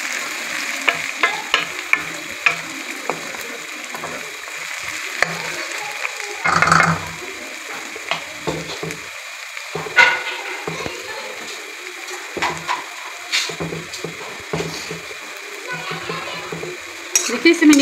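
Onions and cashews frying in oil in a pan for chicken karahi, a continuous sizzle under stirring with occasional clinks and scrapes of a spoon, fairly close and loud.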